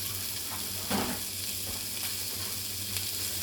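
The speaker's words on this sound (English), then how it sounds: "the sausages are sizzling" Sausages sizzle and crackle steadily in a hot pan, close by, with a brief clatter or stir partway through.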